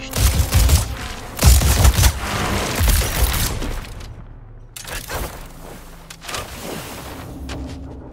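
Suppressing gunfire in Suicide Squad: Kill the Justice League, loud dense bursts of shots and booms that come in waves, with a brief lull near the middle before the firing picks up again more softly.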